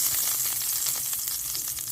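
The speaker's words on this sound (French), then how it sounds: "Après avoir laissé griller la viande 5 à 6 minutes sur chaque côté" Beef sizzles loudly in a hot pan, a bright crackling hiss with small pops throughout.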